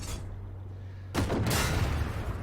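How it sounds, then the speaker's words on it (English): Tank gunfire in a video game, one sudden heavy blast followed by a sustained rumbling burst of shots, loud and close against a steady background hum, with no speech. "So now I'm free to start just putting shot after shot after shot into these tanks again."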